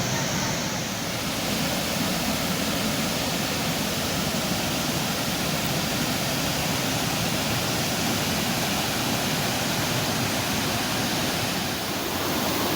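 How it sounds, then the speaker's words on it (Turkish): The Fol stream rushing at Canikdere waterfall near Tonya, Trabzon: a loud, constant roar of falling and flowing water, dense and unbroken throughout with no other sounds standing out. "Fol Deresi'nin tüm ihtişamıyla Karadeniz'e doğru koşuşunu, akışını izliyorsunuz"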